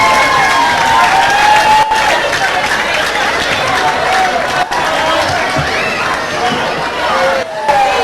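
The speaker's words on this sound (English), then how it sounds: "Would you give them a round of applause as they come and receive their trophy?" Loud, sustained crowd applause and cheering in a crowded pub as a trophy is presented, with shouts and chatter mixed through the dense clapping.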